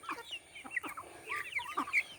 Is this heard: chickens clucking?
yes